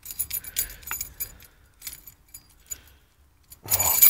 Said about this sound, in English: These keys are silly when they get tangled.